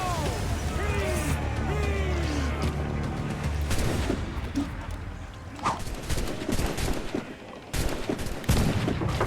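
Cannon fire in a naval battle in Assassin's Creed IV Black Flag, a rapid series of booming volleys and crashes over rushing sea and ship noise, with crew voices shouting throughout.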